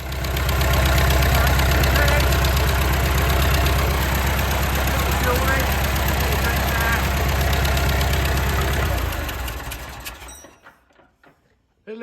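A Massey Ferguson 575 tractor's diesel engine runs loud and steady just after starting, with a rapid knocking clatter that holds for about nine seconds before it cuts off and fades to near silence.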